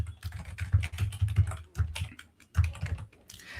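Quick bursts of close keystrokes on a computer keyboard while code is typed in a Jetpack Compose programming session, irregular clicking in short clusters with small pauses between.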